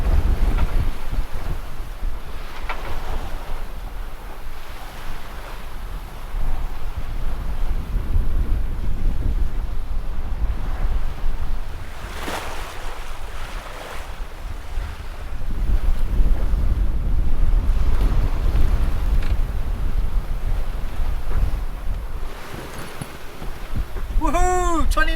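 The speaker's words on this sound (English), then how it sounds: "I don't know where this wind came from, but it suddenly came on us." Strong sea wind roars across the microphone aboard a reefed sailing yacht off the Scottish coast, with rushing water and hull noise beneath, steady and loud throughout with stronger gusts midway and near the end.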